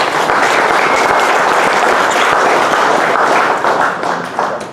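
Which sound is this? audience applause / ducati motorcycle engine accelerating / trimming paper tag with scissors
audience applause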